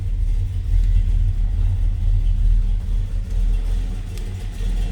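The engine of a 1957 Chevrolet Bel Air two-door hardtop runs steadily, a deep continuous rumble heard close up with little change in pitch and no speech.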